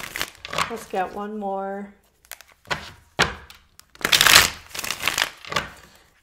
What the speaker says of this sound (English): let me just get a couple shuffles here on camera